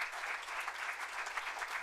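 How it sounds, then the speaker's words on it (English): A city council meeting audience gives steady, dense applause for a graduating student. The clapping is even and moderately loud throughout, with no voices over it. "you can applaud for Mary"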